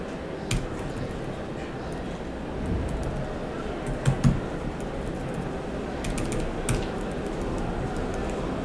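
Someone typing on a computer keyboard during a research talk, faint scattered key clicks in short bursts over a steady room hum.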